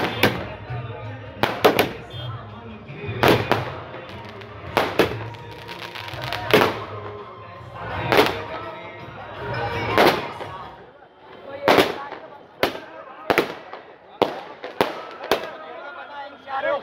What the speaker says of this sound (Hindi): इस दौरान जमकर पटाखे पटकाए गए